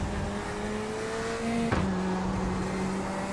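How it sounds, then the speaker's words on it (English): A race car in a sim racing game comes up on the right side: a steady, droning engine tone that lurches in pitch as the car draws alongside, then settles into a lower, even hum. "I heard that car come right up on the right side"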